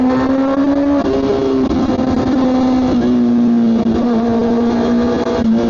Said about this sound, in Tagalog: Tapos napaka high pitch talaga ng tunog niya since palitan na ng tambucho to at wala na itong catalytic.